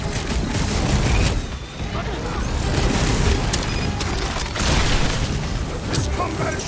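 Sustained rapid gunfire in the Guardians of the Galaxy video game, dense bursts with heavy booms and clatter throughout, loud and continuous, with a voice speaking over the combat.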